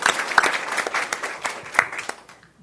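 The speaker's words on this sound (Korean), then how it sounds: "박수로 맞이해 주시죠" Audience at a municipal meeting applauding to welcome a speaker, with a burst of mixed claps that tapers off and ends near the close.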